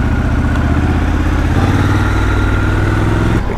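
A Triumph Scrambler XC motorcycle engine thrums while riding, a loud, close, steady low rumble with a rhythmic beat, easing off sharply just before the end.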